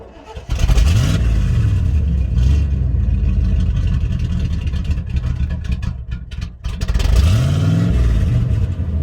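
A Chevy square body dump truck cranks and fires up, then its engine revs hard in rising and falling surges, loud and close, with a brief dip before another strong rev near the end.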